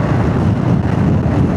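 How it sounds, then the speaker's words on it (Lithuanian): Strong crosswind buffets a motorcycle rider on a summer road ride, a loud, steady low roar of wind rushing over the rider, with no talking. "Vėjas šoninis jaučias gerai."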